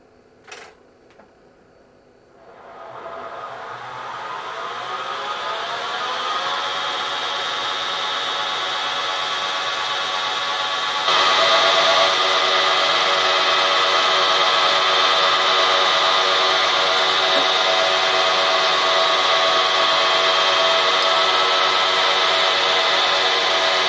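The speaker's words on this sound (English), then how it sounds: "Right, now I'm going to change to the drill." A milling machine spins up with a rising whir, then drills a clearance hole for a bolt, giving a steady, loud, close mechanical drone with a bright grinding layer that steps up partway through, and no talking.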